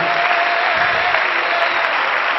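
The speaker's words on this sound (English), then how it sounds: "Would somebody begin to clap your hands unto Jesus?" A church congregation clapping hands together in a loud, continuous wash of applause, close and unbroken, with no pause or rhythm standing out.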